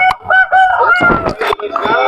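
Roosters and other fowl at the Paramathi Velur chicken market, a century-old Sunday morning market, crow and call close by in a loud, overlapping run of repeated harmonic cries with no talk.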